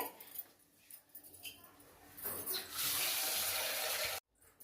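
Rice and lentils for ginger pongal are rinsed under a running kitchen tap. The water gushes loudly and steadily into the sink for about two seconds after some quieter handling sounds, then cuts off sharply.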